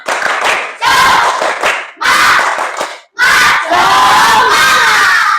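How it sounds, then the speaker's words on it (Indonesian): A school class in Indonesia performs a rhythmic spirit clap, with loud bursts of children's voices chanting in unison and clapping in four short, patterned phrases separated by brief pauses. "Kita tepuk semangat ya. Tepuk semangat."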